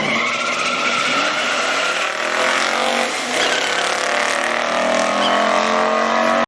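A 1969 Mercury Cougar Eliminator with a 428 Cobra Jet engine driving hard, tires squealing loudly and continuously over engine roar, close and intense throughout.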